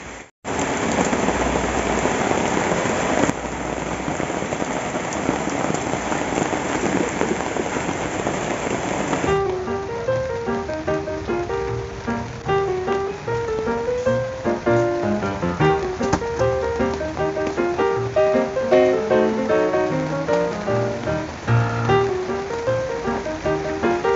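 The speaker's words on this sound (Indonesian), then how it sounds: "Wah, hujan nih" Heavy tropical rain pours down on a surface in a steady, loud hiss with no break, while a faint tonal melody plays beneath it in the second half.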